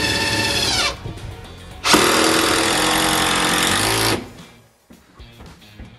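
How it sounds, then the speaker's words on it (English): A power drill drives screws into a wall stud during a bathroom remodel, loud and close, in two long whirring bursts separated by a short gap, then winding down to quiet. "And then I'm going to tack a screw in here. Put a screw in over here."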